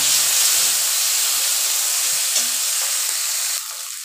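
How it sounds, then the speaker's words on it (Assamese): Small fish coated in salt and turmeric fry lightly in hot oil, giving a steady close hiss and sizzle that continues throughout and drops slightly in level near the end. "এতিয়া মই এই সৰু মাছখিনি হালকা কৰি ফ্ৰাই কৰি ল'ম।"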